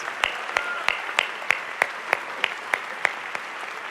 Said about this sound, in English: we all owe Al Smith a great, great round of applause